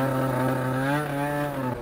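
A Piaggio Zip scooter with a Stage6 engine idles with a steady, buzzing small-engine drone whose pitch wavers slightly, heard close and clear with no talking.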